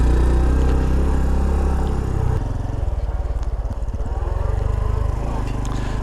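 A Honda Trail 125 Hunter Cub motorcycle engine idles and runs with a low steady putter, close by, its tone shifting slightly partway through.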